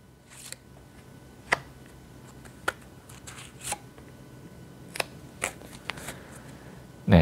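Tarot cards being drawn and shuffled by hand give soft, sparse papery snaps and slides, a few sharp flicks spaced out over quiet room tone, with no talking.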